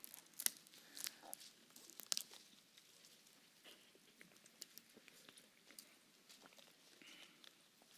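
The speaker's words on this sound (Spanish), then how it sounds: "El sonido de las hojas se escucha excelente desde acá" Papery rustling and crisp flicks of thin sheets being turned, several quick crinkles early on, then softer scattered page sounds throughout, close by with no talking.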